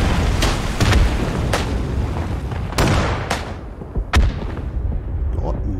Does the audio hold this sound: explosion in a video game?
yes